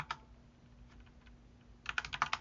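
Computer keyboard typing: a quick burst of keystrokes at the start, sparse faint taps through the middle, then a denser run of clacking keys toward the end, close and fairly quiet, with no talking.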